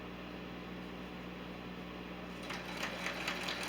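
A sewing machine hums steadily while stitching quilt blocks into rows, then breaks into a faster rhythmic needle chatter partway through, close and alone.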